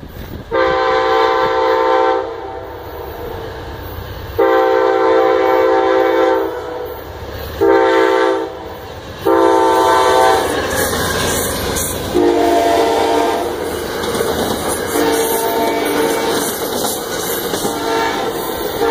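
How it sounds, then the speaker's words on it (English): An Amtrak passenger train passing through Fonda, New York, sounding its horn in several long, loud chord blasts, with rolling wheel and rail noise continuing between and after the blasts. "Oh yeah, Amtrak."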